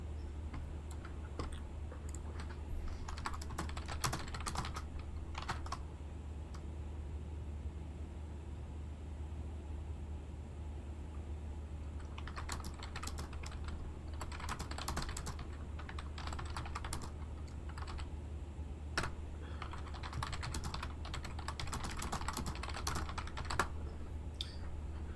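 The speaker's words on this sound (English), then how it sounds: "Just typing away in another chat as we climb up out of here." Bursts of computer keyboard typing come in irregular clusters of quick clicks separated by pauses, set against a steady low engine-like hum of a flight-simulator cockpit in an Inibuilds A350-1000 climbing out.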